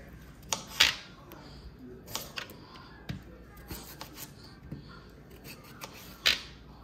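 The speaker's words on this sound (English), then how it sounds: "I'm gonna cut up a little bit more" Ingredients being cut up for a wood-cooked, oven-baked pot roast: sparse, faint snipping and scraping clicks at irregular intervals, with a few sharper cuts standing out against quiet kitchen background.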